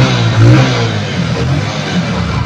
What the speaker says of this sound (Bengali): এবার আমরা অ্যাক্সেলেটারের সাউন্ডটা শুনি।